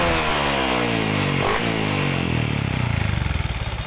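Honda Wave 125 motorcycle engine being revved up after an ignition repair, running steadily and then climbing in pitch with a rising, pulsing exhaust note, close and loud with no talk.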